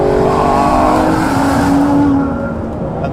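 Aston Martin One-77 accelerating hard on an open road, its engine note rising loud and close through the gears, then easing off toward the end, with no voices.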